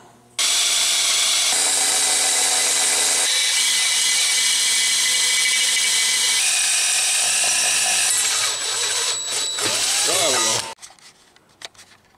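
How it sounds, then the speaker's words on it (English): A power drill whines loudly and continuously as it bores holes into scrap metal plate, pitch shifting as the load changes, then stops abruptly near the end. "We're gonna drill them out."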